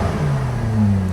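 A C6 Corvette engine revs at idle in a car with a slight power-steering whine and a check-engine light on. It makes a loud, close, throaty hum whose pitch climbs and holds in a short rev.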